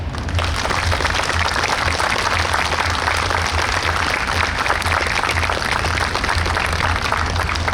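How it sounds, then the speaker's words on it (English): An outdoor crowd at a New York State Police special operations exhibit show claps steadily, a continuous even wash of applause with a low hum underneath. "We think it's those guys that deserve a real round of applause today."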